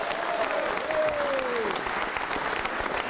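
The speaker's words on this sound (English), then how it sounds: "Keep the applause going from Lucky Seven Racing, Tim Slade." A studio audience on a V8 Supercars motorsport show keeps up continuous, even applause, with a faint sliding tone drifting underneath.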